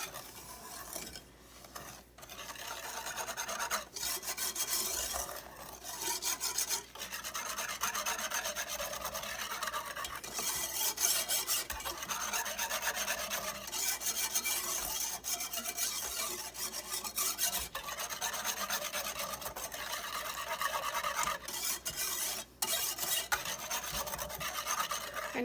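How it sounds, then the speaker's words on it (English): A whisk scrapes and rubs briskly around a bowl while chocolate pie filling is mixed, a continuous close scratching with a steady rhythm and occasional brief pauses, heard without talk. "Now you want to whisk it all together."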